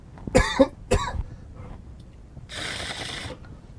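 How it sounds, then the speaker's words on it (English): Two sharp, close coughs in quick succession, followed by a quiet pause and then a longer hissing, breathy rasp. "Coughing even before I inhale it."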